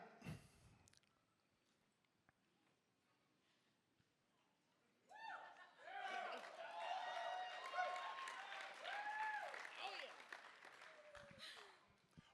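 Applause from the audience at the 2025 IAC Finals starts suddenly midway and holds at a steady, moderately loud level, following a quiet stretch of room tone with a few faint sounds.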